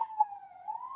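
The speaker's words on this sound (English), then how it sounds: "I apologize for the siren in the background." A distant siren wails faintly, a single steady rising-and-falling tone drifting in the background.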